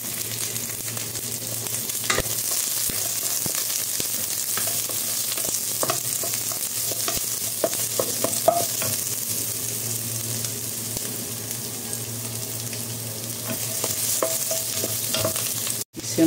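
Chicken gizzards and liver fry with garlic and onion in a pan, giving a steady close sizzle broken by scraping stirring and a few clinks, with no talk.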